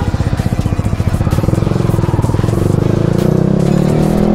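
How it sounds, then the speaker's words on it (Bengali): A Yamaha R15M Indonesian-version motorcycle revs hard nearby, its exhaust giving a rapid, throbbing drone with rattly, popping pulses that quicken as the engine climbs, loud and close with no talk over it. "দেখেন একটা ব্যাকফায়ার করে"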